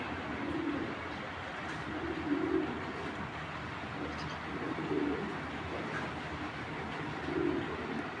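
Racing pigeons cooing at close range, soft low coos repeating roughly every two to three seconds over a steady background hum, with no talking.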